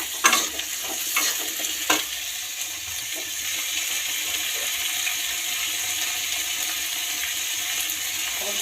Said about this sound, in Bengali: এরপরে একটুখানি পেঁয়াজটা ভাজা হয়ে গেলে দিয়ে দিচ্ছি আমরা এখানে ডুমো ডুমো করে কেটে রাখা আলু।